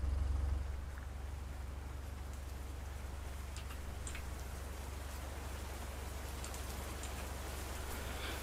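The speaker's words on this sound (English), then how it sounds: "Okay, we're getting to a little too rainy of territories here." Steady, dense rain falls throughout in the Roblox storm-chasing game Twisted, a continuous close hiss with a low rumbling undertone and no speech.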